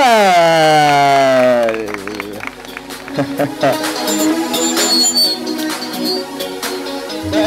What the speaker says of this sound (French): Mesdames et messieurs, on applaudit très fort pour Miguel